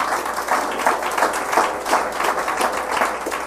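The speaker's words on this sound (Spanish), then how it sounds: "Un aplauso," A church congregation applauds during a Spanish-language sermon, steady mid-level clapping with pulsing swells that fills the whole span and holds a fairly even loudness from start to finish.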